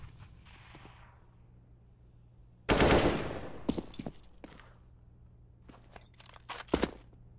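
Gunfire in Counter-Strike on the map Mirage during a competitive match: a sudden loud burst of rifle shots erupts after a quiet stretch, followed by several scattered sharp single shots and a final short cluster.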